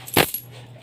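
Coins from a broken-open piggy bank give a single short, bright metallic clink over a quiet room hum.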